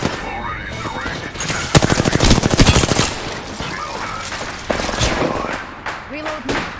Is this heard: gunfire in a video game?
yes